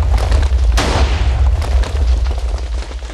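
A compact rapid-fire Minecraft TNT cannon goes off with a loud, punchy boom near the start, followed by rumbling low echoes and softer repeated blasts fading out.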